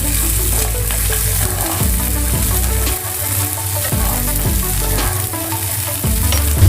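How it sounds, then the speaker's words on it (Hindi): Green peas fry and sizzle in a hot pan, a continuous loud crackling hiss with occasional scrapes of stirring. "फ्राई पैन गर्म हो चुका है, इसमें हरी मटर डालेंगे और इनको हल्का सा फ्राई करेंगे।"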